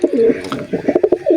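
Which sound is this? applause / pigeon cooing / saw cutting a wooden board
pigeon cooing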